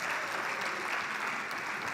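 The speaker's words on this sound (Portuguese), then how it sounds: "aplaude a Jesus pela vida delas." A church congregation clapping together, a dense steady wash of applause that stays even and moderately loud throughout, with no voices standing out.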